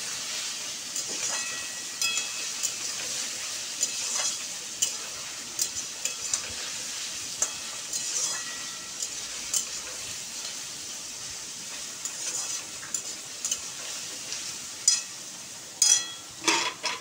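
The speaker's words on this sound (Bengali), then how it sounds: "জলটা এখন ফুটছে, আর একটু ফুটুক, তারপরে চালটা দেবো।" Water boiling in a pot for chicken biryani gives off a steady bubbling hiss with scattered pops and small bursts, close and continuous for about seventeen seconds, with no talk.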